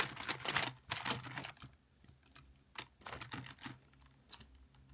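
Computer keyboard keys clacking in rapid irregular bursts as the keyboard is cleaned with a Dollar Tree cleaning product, loud and close, with short pauses between flurries.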